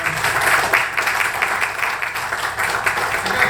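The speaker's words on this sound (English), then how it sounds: "Another big round of applause." Audience at an astronomy club meeting applauding a university speaker: a loud, continuous round of clapping with room noise, no speech over it.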